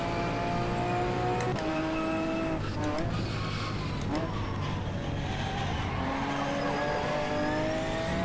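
URD Darche endurance race car at night at Sebring in rFactor 2, engine droning steadily with rising and falling revs through gear changes, loud and continuous for several seconds.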